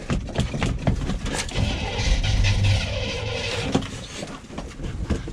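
An old Chevy van's engine cranking and trying to start, a loud, dense and continuous rough churn with uneven surges that never clearly catches into a steady idle.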